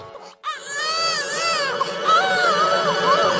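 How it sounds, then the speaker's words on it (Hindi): An infant wails and sobs continuously inside a hut, a loud, close cry with rising and falling pitch that barely pauses. "अरे, इसके अंदर से तो बच्चे के रोने की आवाज आ रही है।"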